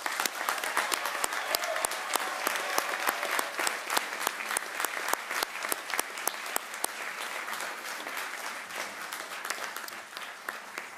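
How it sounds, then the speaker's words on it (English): Sustained audience applause for a graduating class at a business analytics master's commencement, a dense crowd of clapping hands holding steady for about ten seconds before starting to thin out at the end. "How about a round of applause for the entire class?"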